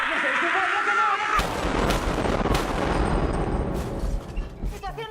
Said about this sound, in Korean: 그리고 울려 퍼지는 총소리.